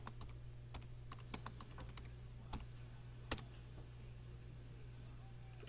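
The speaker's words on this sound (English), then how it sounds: "So I'm going to type live for redo." Scattered, crisp keystrokes tap on a computer keyboard at an uneven pace, quiet and close, with one sharper key hit standing out over a low steady hum.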